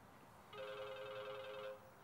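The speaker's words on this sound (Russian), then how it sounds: "Разве ты не слышишь, что звонит?" A telephone rings once with a steady electronic trill lasting over a second, moderately loud in a quiet room with no talk over it.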